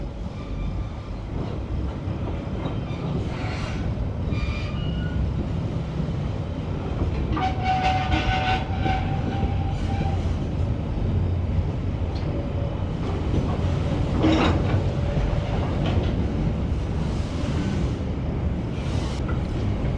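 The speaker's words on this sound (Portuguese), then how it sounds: "Ele vem empurrando, a locomotiva vem empurrando, né, os vagões, né?" Locomotive pushing freight container wagons uphill on the rail line at Paranapiacaba, São Paulo: a steady, loud rumble of engine and wheels on track throughout, with a brief horn-like tone and clanking in the middle.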